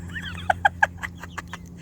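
A backyard city hen clucks nearby in a quick series of short, bright notes, several sharp clucks in a row trailing off into softer ones over a low background hum, with no talk.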